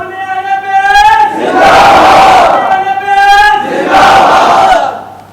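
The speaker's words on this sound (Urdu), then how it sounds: "ایک آواز کے ساتھ بولا کیجئے گا، محبت کے ساتھ نعرے کا جواب دینا" A crowd at a religious gathering shouts a slogan back in unison, two loud, full-throated bursts of massed voices separated by a single leading voice.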